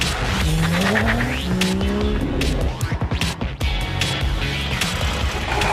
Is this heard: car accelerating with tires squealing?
yes